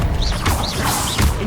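A fire spell cast in the Hogwarts Legacy video game, heard as a dense, loud whooshing burst with crackling thuds and short rising swishes, continuous over a second and a half amid game effects.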